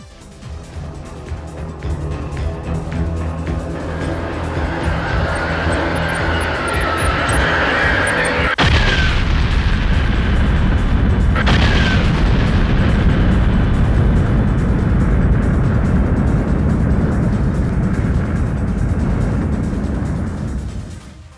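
Loud, sustained rumbling roar of an explosion standing in for a star blowing apart as a supernova, with a sharp crack partway through and a deep, continuous low-frequency boom that holds steady to the end.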